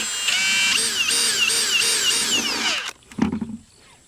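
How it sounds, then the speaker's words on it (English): A power drill whines in repeated rising and falling bursts, fairly close, drilling a hole in a plastic bucket, then stops and is followed by a short clatter. "you just gotta drill a hole that's slightly smaller than the tubing"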